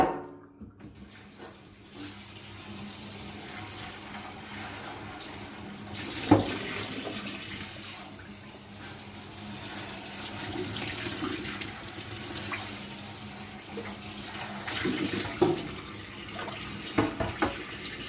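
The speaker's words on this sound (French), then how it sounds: "On rince." Tap water runs steadily into a sink while hair colour is rinsed out, a continuous close splashing flow with small knocks and clatters throughout.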